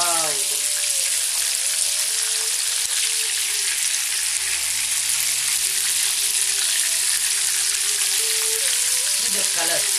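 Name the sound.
prawns frying in oil for prawn manchurian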